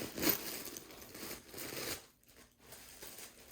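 Soft crinkling and rustling of thin tissue paper in short bursts as a Gucci Soho Disco handbag is taken out, fairly faint and close, fading to near quiet toward the end.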